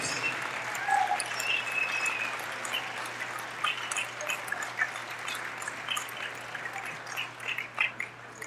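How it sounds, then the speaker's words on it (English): Applause from a high school gym crowd honoring senior players on girls varsity basketball senior night, a faint, distant, steady patter of clapping with scattered crowd noise. "Let's give a big round of applause for our 2026 senior basketball players."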